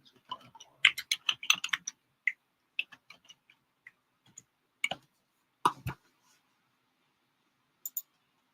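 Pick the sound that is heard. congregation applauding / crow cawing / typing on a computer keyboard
typing on a computer keyboard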